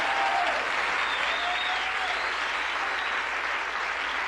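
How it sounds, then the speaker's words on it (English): Sustained applause from a TV studio audience, dense and even clapping that holds steady from start to finish. "go ahead, applaud the theme."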